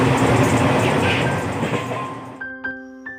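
A train runs along the tracks, a loud close rumble with rattling that fades over a few seconds, leaving faint clicks and tones.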